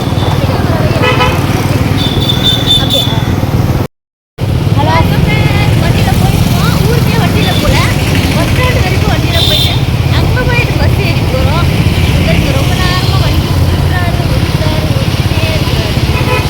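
A two-wheeler carrying four people rides along a road, its steady engine drone and wind rumble continuous and close, with a couple of brief horn toots and voices talking over it.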